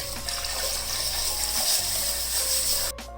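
Water pours steadily into a pot of kadhi mixture of gram flour and yogurt, a continuous close splashing stream that cuts off near the end, with no talking.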